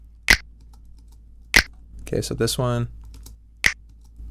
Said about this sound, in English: I have these two snaps